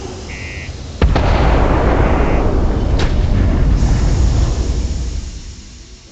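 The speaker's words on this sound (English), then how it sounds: "Particle detonation concluded." A particle detonation in Starfield erupts as one loud, close explosion, then a sustained roaring rumble with a sharp crack partway through, which slowly dies away to quiet.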